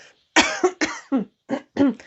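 A short burst of several harsh coughs in quick succession, close and loud, separated by brief silences.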